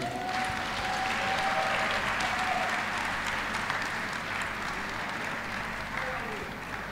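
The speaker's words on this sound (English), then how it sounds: "A round of applause for Wole Arole." An audience at a comedy show applauds a comedian with sustained dense clapping, a hum and a brief tonal whine beneath, and a few voices mixed into the crowd noise.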